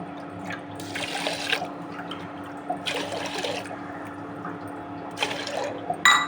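Water is poured into a pot of rinsed barnyard millet for pongal, heard as three separate splashing pours in bursts, each lasting under a second, clear and close with no talking.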